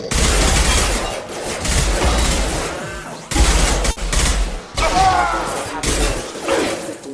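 Gunfire in Mass Effect 2, dense bursts of rapid shots and impacts in a combat scene, loud and continuous with brief pauses, mixed with shouted voices and game effects.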